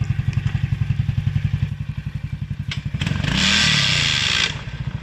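An Apachi 4x2 ATV engine runs close by with a rapid, pulsing idle, then revs up into a louder sustained roar before dropping back.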